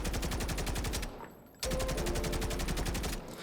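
An AUG-A3 assault rifle fired on a firing range in the shooter game Delta Force, rapid full-auto bursts with an even, fast rhythm, a brief pause, then a second sustained burst, close and loud.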